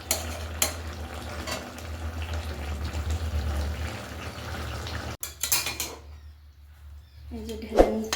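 Thick home-style Bengali kathkoi fish curry is poured and scraped out of a pan, with clanks of metal utensil on cookware and a low sizzle, then a quieter stretch broken by light clinks and a sharp scrape.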